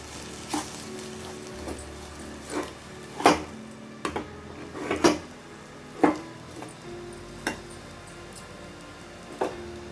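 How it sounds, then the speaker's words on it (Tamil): Semolina (rava) being stirred in a pan for rava kichadi, a soft frying hiss broken by repeated sharp scrapes and taps of the spoon against the pan at an uneven pace, close by with no talking. "ரவை ஆட் பண்ணிடலாம். கொஞ்சம் அதை மிக்ஸ் பண்ணி விட்டுட்டு"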